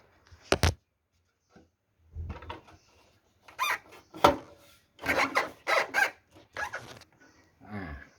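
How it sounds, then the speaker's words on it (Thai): The cover of a Pioneer CT-W404R dual cassette deck is handled and closed, giving a few quiet plastic scrapes, rubs and clicks in separate short bursts with silence between. "เดี๋ยวผมปิดฝาเครื่องนะครับ"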